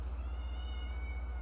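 A cat meows faintly, half-buried under a steady low electrical hum, with no one talking.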